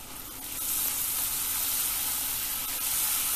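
Spice paste and grated ginger sizzling in hot oil in a pan, a loud steady frying hiss that swells up after a brief quieter start and holds, with no talking.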